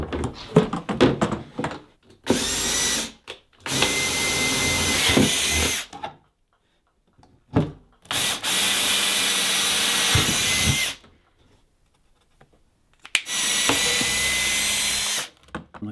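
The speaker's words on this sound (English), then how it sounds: "we drilled a hole into the fuel tank and through the little case to put the little, I guess, fitting for the fuel line in there" A power drill bores a hole into a 15-litre fuel tank for a portable diesel heater. Three loud, steady drilling runs of a few seconds each are separated by silences and preceded by some handling knocks.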